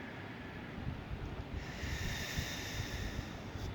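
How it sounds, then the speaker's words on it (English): A slow, deep breath drawn in through the nostrils and let out, soft and close, with a faint airy rush that swells midway. "Another deep breath, breathe in."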